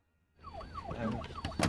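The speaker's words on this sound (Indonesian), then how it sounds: "kemacetan lalu lintas kota meski sirine sudah dihidupkan" An emergency siren wails in rising and falling sweeps amid heavy city traffic, rising out of silence and growing louder over a second or so, with street noise underneath.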